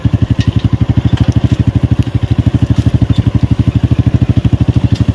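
A homemade desi jugaad farm vehicle's engine runs steadily close by, chugging in a fast, even rhythm of dense thumping pulses with a faint rattle, and no voices over it.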